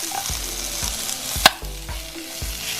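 Carrots and peppers stir-fry in a pan with garlic and ginger, giving a steady close sizzle broken by rhythmic scrapes and clacks of stirring, with one sharp clink midway.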